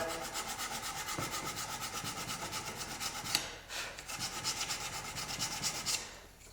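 Sandpaper wrapped on a small stick rubs back and forth across a wooden guitar neck in quick, even rasping strokes, close and continuous, with a brief pause midway.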